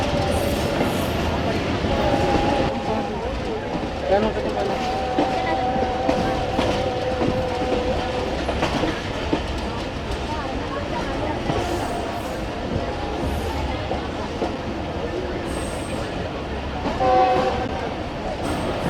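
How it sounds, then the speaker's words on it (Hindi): A train arriving at Rewan Junction railway station in Pakistan rumbles and clatters along the tracks, with repeated horn blasts sounding over the steady rolling noise and faint voices in the background. "ट्रेन हमारी अप्रोच बना रही है रेवन जंक्शन रेलवे स्टेशन पर"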